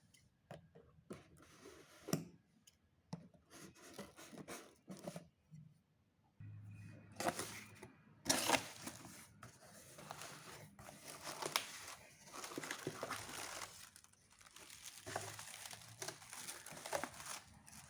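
Someone opens the cardboard packaging of a Bella Vita organic men's set of six perfumes, with soft crinkling, tearing and ticking handling noises close by, in several bursts separated by short pauses.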